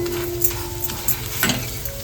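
Ground roasted onion and coconut masala sizzles in a pan while being stirred, a dense steady fry with repeated soft scraping strokes roughly every half second, close up, no speech.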